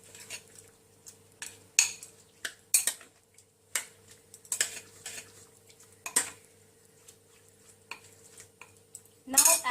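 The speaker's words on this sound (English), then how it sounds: "Give it a nice stir. Mix it properly." Prawns being stirred and mixed in a bowl for a microwave steamed mustard prawn dish, with repeated clinks and scrapes of a utensil against the bowl in an irregular rhythm, close and moderately loud.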